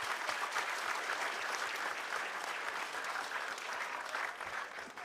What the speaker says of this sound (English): can we give them all a big round of applause?